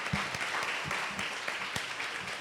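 Applause from a conference audience after a talk, continuous clapping at moderate distance with scattered louder claps and a faint voice beneath.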